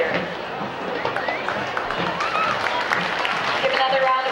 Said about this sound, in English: Give another round of applause to your 2015 4-H King and Queen, Ethan and Gabrielle.